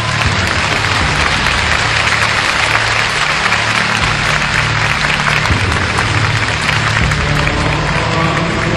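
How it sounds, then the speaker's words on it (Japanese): A large audience at a Japanese voice-actor stage event for Kuroshitsuji claps steadily to welcome the cast, a dense, loud wash of applause that holds unbroken throughout. "拍手を持ってお迎えください。"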